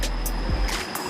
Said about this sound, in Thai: มีลำธารด้วย